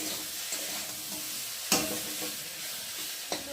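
Spices for a fish curry with potato and eggplant frying in oil while being stirred, a steady close sizzle broken by a few sharp scrapes of the spoon against the pan, with no talking.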